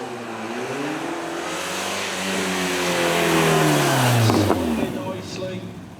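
A TVR with a 4.2 litre V8 revs and accelerates at a supercar weekend event, a loud, steady engine roar with rising and falling pitch sweeps passing close by, while a voice talks over it.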